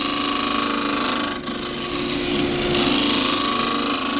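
A tool scrapes across the face of a cross-grain ash wood box spinning on a lathe, giving a steady, harsh, close hiss with one brief dip partway through.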